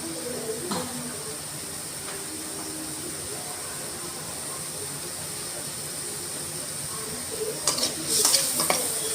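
Onions sizzle steadily in hot oil while cooking a peas and potato kurma, a constant frying hiss with occasional scrapes and clinks of a spoon stirring the pan near the end.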